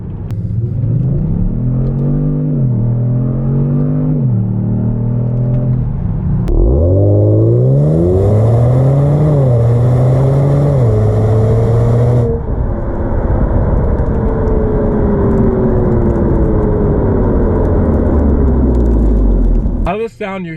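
Kia Stinger GT1 in sport mode accelerating hard through paddle-shifted gears, with a rising engine note augmented through the speakers, a brief drop at each shift and steady road rumble, heard loud from inside the cabin.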